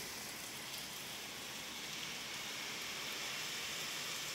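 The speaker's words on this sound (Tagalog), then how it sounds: "What a beautiful morning. Rainy morning, rain." Steady rain falls on a morning in the Philippines, an even, dense hiss of drops that holds at a constant level throughout, with no voices.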